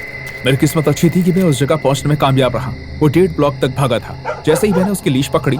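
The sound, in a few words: dog barking in animated story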